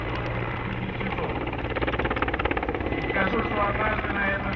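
A Mi-8 helicopter flying at the MAKS 2013 air show, its rotor giving a loud steady thudding beat with turbine whine, with a commentator talking over it.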